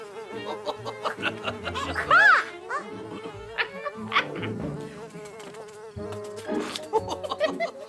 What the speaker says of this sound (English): the fuzzer buzzer was buzzing around Pa